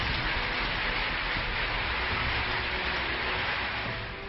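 Steady rain pours across the hill states, a dense, even hiss that holds at one level from start to finish with no voices or other sounds.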